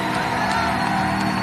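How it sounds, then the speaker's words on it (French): A church congregation at a Kinshasa service cheers and acclaims Jesus, making a dense, steady roar of many voices with whoops and shouts across the whole stretch. "Quelqu'un fait du bruit pour son Dieu librement."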